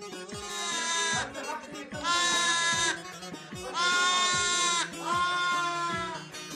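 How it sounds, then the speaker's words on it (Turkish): Several newborn lambs bleat near a stove indoors, four long wavering calls in a row, loud and close, with small knocks and shuffles between them. "Mini mini kuzular sobanın başında ısınıyor."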